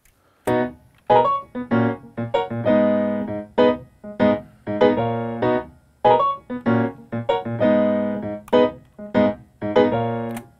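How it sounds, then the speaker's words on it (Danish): Gospel-style piano chords with a church feel, played as a series of sustained, rhythmic chord strikes with brief gaps between them, clear and close with no voices. "så jeg spillede sådan nogle rimelig gospelagtige akkorder hen over det."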